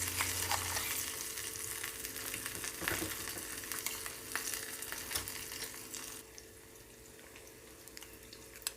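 Grated yam chutney is stirred into a hot tempering in a pan, with a soft sizzle, scraping spoon strokes and occasional clicks, fairly quiet and close. The frying hiss eases near the end and no one talks.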